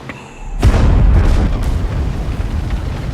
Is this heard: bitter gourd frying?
no